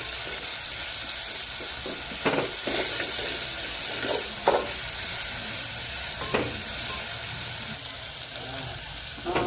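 Chopped onion with salt sautéing until reddish in a pan, with a steady close sizzle and a few spatula scrapes and taps spaced through it.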